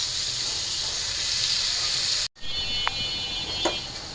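Potatoes frying in a pan give a loud, steady hissing sizzle up close; after a brief cut it continues, with a couple of sharp utensil taps.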